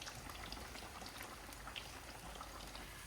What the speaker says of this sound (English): deep fry the yam when the oil is hot